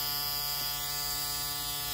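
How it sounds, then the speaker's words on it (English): A small electric vacuum pump inside a disposable medical device, a spinning mechanism striking a diaphragm, gives a steady close buzzing whine with an even electric hum and no voices. "the pump literally spins a little doohickey that hits a diaphragm under that little black box there"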